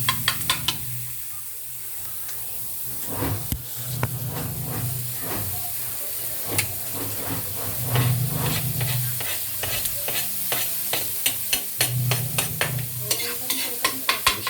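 Garlic and onions sauté in a pan for kare-kare, sizzling and hissing steadily while a utensil stirs and scrapes with repeated sharp clicks that grow quicker near the end.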